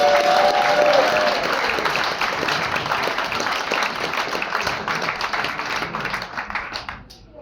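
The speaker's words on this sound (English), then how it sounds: "Big applause for Andre." Crowd applause for Andre at a Tesla gathering in Flachau, a loud, dense wash of clapping that holds steady and then fades out near the end.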